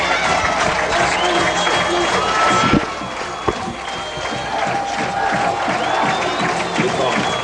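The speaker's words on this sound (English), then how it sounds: "The folks are cheering." Crowd cheering and applauding at a high school homecoming football game, a loud, dense roar that carries steadily throughout with brief louder bursts.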